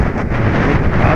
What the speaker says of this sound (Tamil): ஏன்னா ரொம்ப ஸ்ட்ராங்காக அடிக்கும் காற்று.